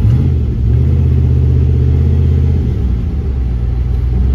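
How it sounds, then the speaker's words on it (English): A turbocharged LS-engined Caravan holds a brake stand on a public road, its engine giving a loud, steady, low rumbling drone that barely wavers over several seconds. "I've never done a brake stand in the middle of the road before."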